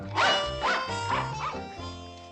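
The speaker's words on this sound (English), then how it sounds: "you're going to have to leave the dogs outside" Dogs in a room on a 1960s TV sitcom set, a short series of four or five yapping barks close by, each one tonal and fading, with a quieter tail after them.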